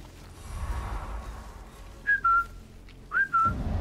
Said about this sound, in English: If I whistle, they're all gonna hear me.